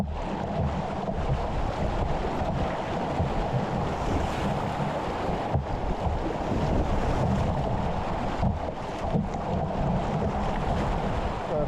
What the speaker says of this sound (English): Nice little Class B boogie water here.